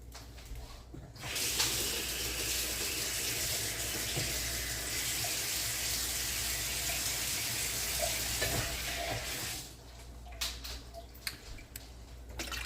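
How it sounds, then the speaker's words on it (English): Tap water runs into a can and then pours into a pot while making chili con carne, a steady rushing splash for about eight seconds, then tapering off into a few drips and clinks. "Now I'm going to add some water to the can to get rid of the last little bit in there into the pot."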